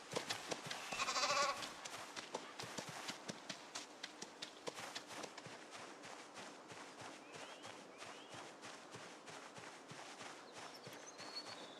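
Sheep in the video game Project Zomboid, with soft rhythmic hoof clip-clops and faint bleat-like calls over a quiet, busy game ambience; one louder rustling burst comes early on, and no one speaks.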